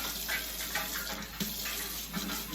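Water runs steadily from a kitchen tap while a turkey brine is made, a soft, continuous splash and trickle with faint clinks, moderately quiet throughout.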